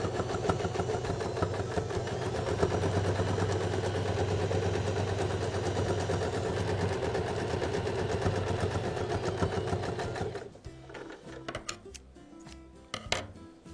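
A sewing machine stitches backpack fabric in a steady, continuous whirring run for about ten seconds, then stops, leaving a few scattered clicks and handling sounds.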